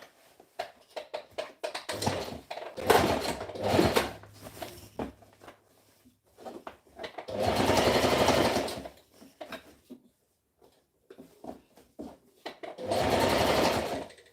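Sewing machine stitching a V-neck shirt in short and longer bursts of rapid mechanical whirring, separated by quiet pauses and small handling clicks.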